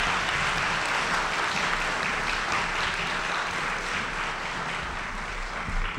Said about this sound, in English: So can we give a warm round of applause to these graduates?